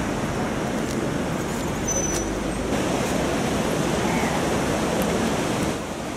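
Ocean surf rolls in at Puerto de la Cruz, Tenerife, a dense continuous roar of breaking waves that stays loud and steady throughout, with no speech.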